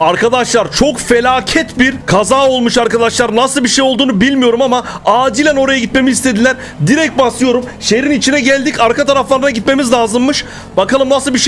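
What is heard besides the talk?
No everyday noise stands out behind the speech.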